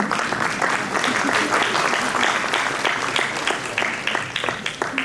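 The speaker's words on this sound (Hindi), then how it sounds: "जिसके हाथ में लेटर आ गए वो भी तालियां बजाइए।" Sustained applause from an audience at an education department appointment letter ceremony, many hands clapping steadily and fairly close throughout, with no speech over it.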